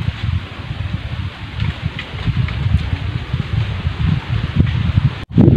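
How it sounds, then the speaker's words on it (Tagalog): Wind blowing outdoors at a fishing spot in a rural province, gusty rustling and buffeting across the microphone that rises and falls throughout, with no talk. "Uy, mahangin na mga dudes."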